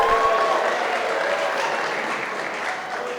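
Gala audience applauding and cheering, steady broadband clapping with a brief raised voice or whistle near the start, moderately loud and gradually easing.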